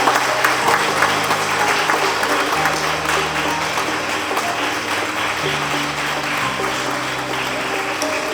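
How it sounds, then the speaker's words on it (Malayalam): Sustained audience applause at an award ceremony honouring a NEET topper at a coaching academy, steady dense clapping throughout with a low musical drone underneath and no pauses. "കയ്യടിയുടെ ഊർജമൊന്നും കുറഞ്ഞു പോകരുത്"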